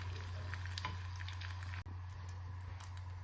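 Chicken rolls fry in hot oil, a steady low sizzle running throughout, with scattered faint clicks and scrapes of a utensil as they are lifted out; no one talks.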